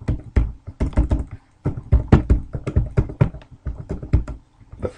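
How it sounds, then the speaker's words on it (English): Rapid, uneven keystrokes on a computer keyboard while a name is entered into security recorder viewing software, close and clear, with short pauses between bursts and no talking. "type in a name"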